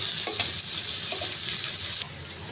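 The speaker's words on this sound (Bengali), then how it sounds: "পেঁয়াজটাকে ভালো করে ভেজে নেব।" Chopped onion and chili fry in oil in a pan for a poa fish bhuna curry. The sizzle is steady, bright and close, with a few soft stirring clicks and no talking.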